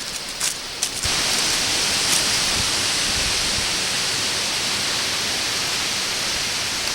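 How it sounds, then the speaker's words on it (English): Steady, loud broadband wind roar rushing continuously outdoors, with a few brief gusts and bumps near the start. "See, it's quite windy today."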